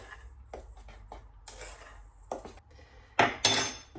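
Flour and golden caster sugar being mixed in a bowl, heard as soft, intermittent scraping and light clinks of a utensil against the bowl, growing louder with a couple of sharper knocks near the end.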